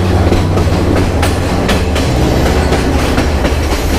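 A moving passenger train rumbles steadily from on board, with a dense low roar and regular clickety-clack of wheels on rail joints throughout.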